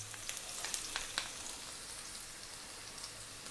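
Garlic and onion frying in sunflower oil in a wok, a soft steady sizzle with a few sharp crackles early on, close and quiet with no talk.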